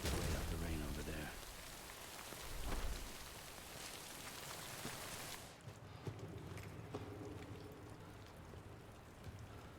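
Steady rain in the video game Death Stranding, falling as a dense, continuous hiss on the ground, with a low rumble near the start and a softer patch in the second half.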